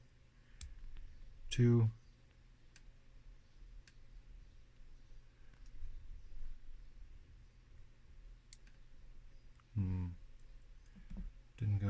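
A Master Lock Excell padlock being picked gives off a series of small sharp pin clicks, a couple of louder bursts standing out, all close up under low room hum and occasional speech.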